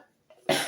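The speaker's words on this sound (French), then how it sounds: "Et en plus, je tousse." A single abrupt cough bursts out at close range, coming after a brief quiet moment.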